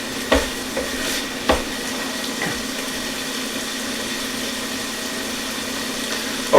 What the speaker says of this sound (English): I'm going to add our diced ham, and I'm going to saute it for another minute